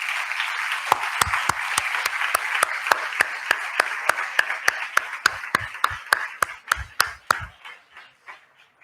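Applause for the tutors at a secondary school graduation and farewell ceremony: steady, evenly spaced claps with sharp individual hits standing out, slowly thinning and fading near the end.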